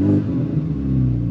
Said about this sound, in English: I'm gonna rev it on a cold engine.